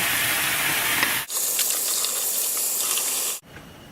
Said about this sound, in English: we're going to soak it with soap and water